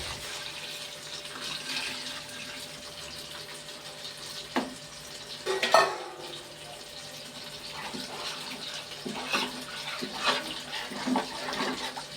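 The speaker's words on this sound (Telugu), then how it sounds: "నీళ్ళు పోస్తున్నా అండి" Water poured into a cooking pan of green chillies and chilli powder, a close splashing pour that swells to a brief burst midway, followed by quieter bubbling and clatter.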